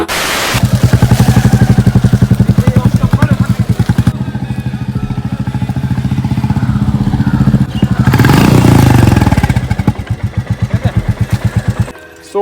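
A Royal Enfield Bullet motorcycle is ridden close by, its single-cylinder exhaust thumping in a fast, steady pulse that stays loud throughout and swells briefly as the engine revs harder.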